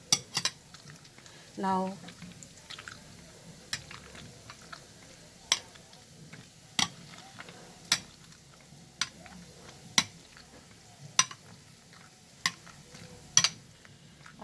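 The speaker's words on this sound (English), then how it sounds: "I'm going to mash it. Nicely mash it." Roasted eggplant for baingan bharta is mashed with a utensil, making a run of sharp, evenly spaced knocks against the pan, about a dozen in all, with one short spoken word early on.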